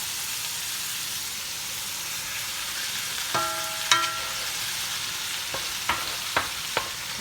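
Fish being placed into a pan of cooking vegetables, a soft steady sizzle with a few distinct clinks and taps from utensils in the latter half, close and fairly quiet.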